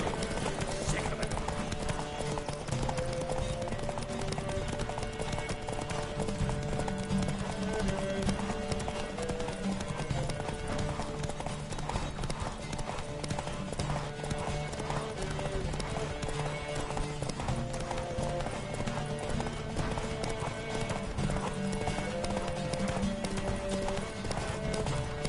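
Horse hooves pound in a fast gallop during a race in The Witcher III, a dense, continuous clip-clop running the whole way under game music and occasional voices.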